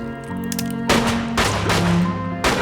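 Gunshots ring out in a movie scene as a guard empties his gun, several loud, sharp bursts in quick succession over a low musical drone.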